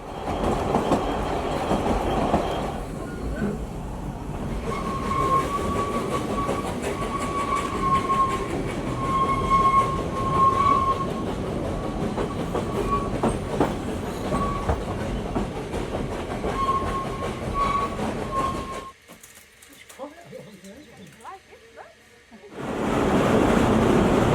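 A restored tourist railway train in North Wales runs steadily with a loud, continuous rumble, clickety-clack of wheels and a sustained high squeal, then drops briefly to a quieter stretch before the roar returns.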